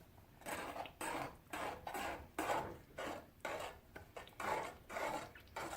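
A spoon scrapes and stirs thick lasagna sauce in a metal pot, producing repeated rhythmic rasping strokes about twice per second, close and fairly loud, with no talking.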